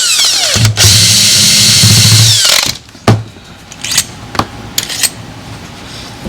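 Power tool whirring loudly up close as it backs bolts out of a starter motor during a rebuild, one sustained burst followed by sharp metallic clinks and knocks of parts being handled.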